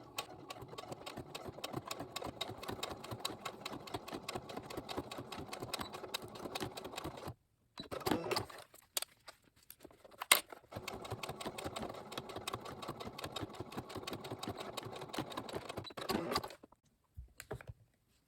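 A sewing machine runs slowly through thick face mask fabric, a steady mechanical whir that stops briefly twice, with short stitching bursts in between, then resumes and cuts off near the end.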